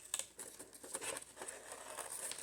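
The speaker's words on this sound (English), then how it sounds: "I hope you don't mind the cutting" Scissors cutting out paper scraps for a junk journal, quick crisp snips and rustling paper close up, faint and continuous.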